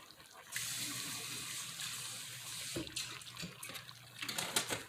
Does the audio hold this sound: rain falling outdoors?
no